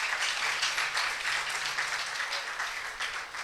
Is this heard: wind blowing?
no